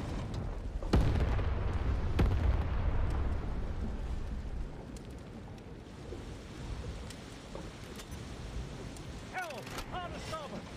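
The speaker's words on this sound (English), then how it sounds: "Torpedo away." Torpedo launch in the War Thunder Mobile submarine game, a heavy whooshing burst followed by a long rumbling underwater wash, with a short game voice line and electronic chirps toward the end.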